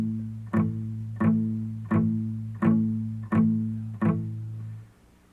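Six evenly spaced guitar chord strums, each a sharp downstroke that rings briefly before the next, played close and clean, ending with a fading final chord.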